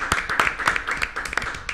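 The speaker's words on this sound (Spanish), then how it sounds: "pido un aplauso" A studio audience claps on a live morning talk show as a film director and two actresses are introduced, a brief burst of dense, close applause with sharp individual hand claps standing out.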